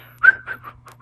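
A person whistles a short phrase of a few clear, rising and falling notes, close and fairly loud, over a steady low hum, with no talking.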